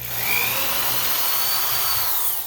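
A power drill bores a hole in a chromatic harmonica slider, a steady high whine running continuously with a faint rising tone near the start.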